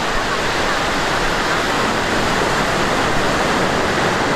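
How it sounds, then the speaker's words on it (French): Broad, continuous rushing of ocean surf washing onto a beach on Fuerteventura, loud and close, a steady wall of water noise without clear breaks. "Et les vagues elles sont pas mal en vrai."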